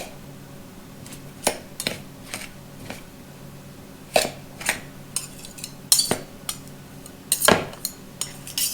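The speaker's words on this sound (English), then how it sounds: "you want to try to mix it all into the flour mixture" A utensil stirs apricot bar batter into a flour mixture in a bowl, giving intermittent scraping clinks and soft knocks in an irregular rhythm, close up and fairly quiet, with no speech.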